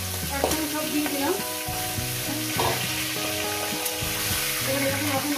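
Catla fish heads fry together in a hot pan with a steady, close sizzle and crackle, stirred now and then. Soft background music plays throughout.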